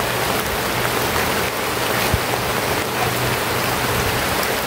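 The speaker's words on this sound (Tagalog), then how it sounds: "Lakas ng ulan." Heavy rain pours steadily onto surfaces, a dense, continuous hiss with scattered drop impacts, close and loud throughout with no break.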